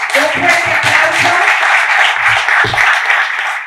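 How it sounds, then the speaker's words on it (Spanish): A crowd applauds steadily for several seconds at an event defending bullfighting, dense clapping with a few voices cheering faintly underneath. "Por favor, un fuerte aplauso."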